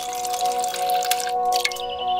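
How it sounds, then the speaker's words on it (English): Water poured into a pan of meat with red wine, thyme and rosemary for slow-cooked shawarma, a steady splashing, trickling pour close by under a faint background hum, ending as the flow tapers. "Top up with water"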